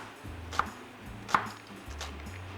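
Red onion being chopped on a board, two sharp knife strikes about a second apart, fairly close, over a low hum of kitchen background.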